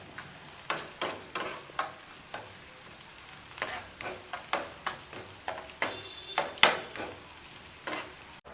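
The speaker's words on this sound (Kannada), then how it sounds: "ಬಿಸಿ ಆದಮೇಲೆ ಈರುಳ್ಳಿ ಹಾಕ್ತೀನಿ. ಇದು ಬ್ರೌನ್ ಕಲರ್ ಬರೋಲ್ಲಿವರೆಗೂ ಹಿಂಗೆ ಇರಬೇಕು" Onions frying in hot oil, a continuous close sizzle broken by regular scraping strokes of a spoon or spatula against the pan, roughly every half second.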